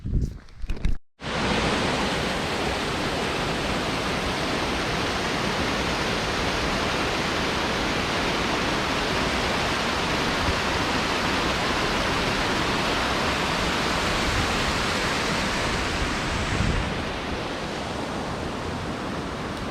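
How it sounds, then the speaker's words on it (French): Small hidden waterfall beside a road in the Italian mountains near Sant'Anna di Vinadio: a steady, loud, broadband rush of falling water that runs unbroken for nearly twenty seconds after a brief dip at the start. "Petite cascade complètement cachée."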